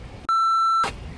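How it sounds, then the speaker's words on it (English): A single loud electronic beep holds a steady pure tone for about half a second, sharply cut off, against quiet background noise. "All you heard was beep"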